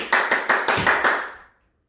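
Several sharp hand claps, about five in a steady quick rhythm, close and fairly loud, made while tossing and catching a beanbag, ending in silence.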